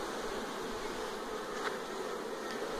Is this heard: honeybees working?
yes